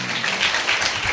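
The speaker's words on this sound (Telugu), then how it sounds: "చప్పట్లు కొట్టండి బిగ్గరగా." Church congregation clapping loudly during a sermon, a brief dense burst of many hands applauding together, steady and full.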